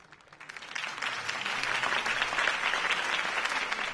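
A crowd breaks into steady applause that swells within the first second and keeps going, dense and sustained, heard from among the audience.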